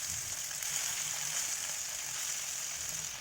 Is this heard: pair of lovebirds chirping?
no